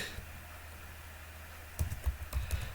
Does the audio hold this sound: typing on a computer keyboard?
yes